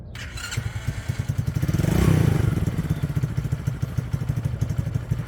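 A cheap online-ordered motorcycle engine starting up and settling into a fast, rhythmic putter, swelling briefly louder as it catches, then idling steadily up close.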